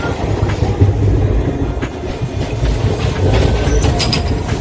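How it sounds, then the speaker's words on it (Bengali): Inside a night train compartment heading toward NJP, the carriage rumbles and rattles continuously with rhythmic clickety-clack from the wheels, loud and close, with occasional sharper clanks and no talking. "আবারও ট্রেন ঠিকঠাক টাইমে যাচ্ছে।"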